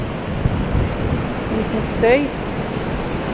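Sea waves roll in on an incoming tide beside a seaside promenade, a constant close wash with wind buffeting the microphone while someone talks over it.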